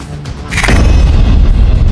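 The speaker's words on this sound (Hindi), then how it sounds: "पिछले 12 घंटे के अंदर 4 और आतंकियों के घर को धमाके से उड़ा दिया गया।" A loud explosion blasts at about half a second, a sharp crack giving way to a heavy, sustained low rumble as a house is blown apart during a security operation in Kashmir.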